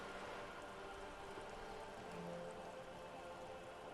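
Steady rainfall in the video game Disco Elysium makes a soft, continuous hiss of drops that stays faint and even throughout, with no voices over it.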